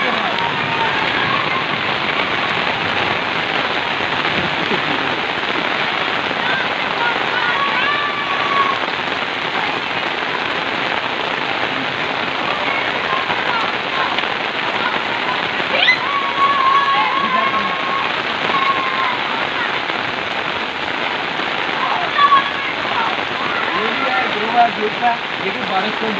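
Heavy rain pours steadily over a village in a dense, loud, unbroken hiss that lasts throughout, with occasional faint voices in the background.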